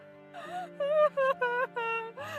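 Cartoon woman crying in pain from illness at home, a voiced wailing sob in several drawn-out, quavering bursts, close and fairly loud over a low steady background hum.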